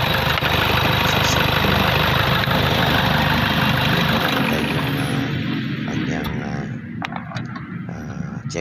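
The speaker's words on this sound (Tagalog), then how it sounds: "Ayan po, umandar na yung tahimik na at maganda na yung minor." A Toyota Fortuner engine runs close by with a loud, steady idle and rhythmic mechanical knock, then quiets and thins out near the end as clicks and small mechanical noises appear.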